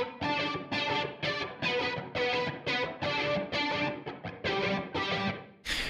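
A high electric guitar part with light drive plays repeated bright strummed phrases in a pop-punk mix, loud and even with short breaks between phrases, heard alone.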